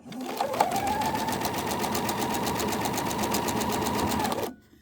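A sewing machine runs steadily stitching quilt fabric, its fast even needle rhythm holding close and loud for several seconds before stopping abruptly.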